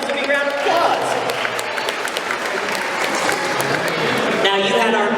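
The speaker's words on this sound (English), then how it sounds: "Give yourselves a big round of applause." Audience at a children's stage magic show bursts into lively applause and cheering, with a performer's voice talking over the clapping throughout.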